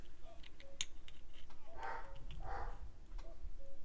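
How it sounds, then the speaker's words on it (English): A dog in a room in My Summer Car gives a few short, sharp barks, spaced apart over a faint ticking background. "And my dog is very noisy"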